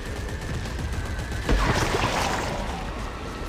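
Bursts of gunfire aimed at tentacles in the sci-fi horror shooter Dead Space 3, with a louder, denser volley about halfway through over a steady rumbling game backdrop.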